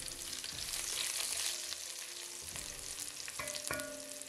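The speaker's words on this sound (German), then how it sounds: "Dann kommt Zwiebel rein und andünsten." Chopped onion sizzles in hot oil with mustard seeds, cumin and asafoetida, a steady bright crackling hiss punctuated by a few clinks and scrapes of stirring, close and without talk.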